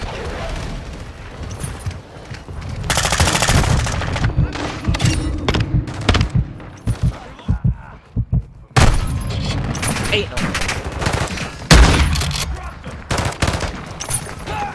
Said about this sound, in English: somebody's using the incendiary rounds on their sniper